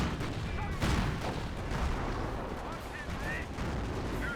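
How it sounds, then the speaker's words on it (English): Anti-tank gun firing in a Company of Heroes battle, distant gunfire and booming shots mixed with scattered battle noise, fairly faint and continuous. "This guy is taking some fire from this AT gun."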